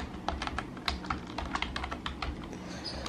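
Rapid typing on a computer keyboard as a Windows 11 registry key is renamed, a close, steady run of light key clicks with short pauses between bursts and no voices.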